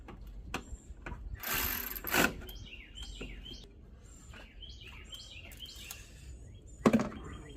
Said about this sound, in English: I'm gonna go ahead and tighten them up.